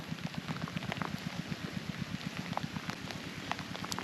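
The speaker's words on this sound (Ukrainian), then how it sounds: "а дощ лиє, так що навіть не знаю що мені робити" Autumn rain falls steadily on a fishing spot, a soft, continuous patter with faint drips and rhythmic tapping, fairly quiet and with no voices.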